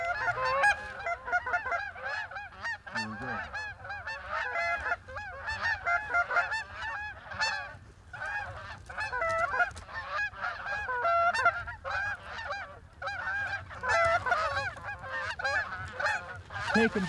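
A flock of geese honks and calls continuously over a hunting spread, many overlapping nasal honks rising and falling in dense bursts, fairly close and loud.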